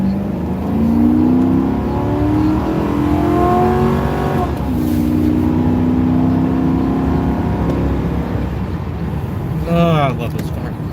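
A car engine revs and accelerates hard, loud and close throughout, its pitch climbing in long sweeps with a brief drop and fresh surge near the end; the exhaust manifold is noted as damaged, making it sound almost on fire.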